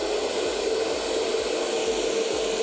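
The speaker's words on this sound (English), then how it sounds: "Lately, I've been really into the hairdryer." A steady, loud whooshing airflow like a hair dryer blowing continuously, with a constant motor hum underneath and no voices.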